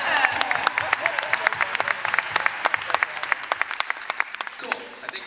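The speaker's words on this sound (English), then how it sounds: "We can applaud for Peter Capaldi." Audience applause at a Doctor Who convention panel at Philadelphia Comic Con, a dense run of many hands clapping that stays loud and steady, then thins out toward the end.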